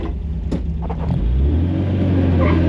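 A 1965 MG MGB British sports car under way, its engine rumbling low and steady, swelling louder as it accelerates, close and continuous with no talk.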